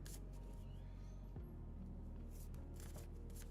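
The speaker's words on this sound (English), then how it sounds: "I'm shuffling my cards." Soft shuffling of cards, quiet riffles and slides of paper over a low steady background hum, with a few brief higher rustles.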